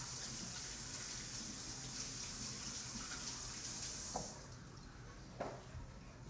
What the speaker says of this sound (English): First, of course, we wash our hands.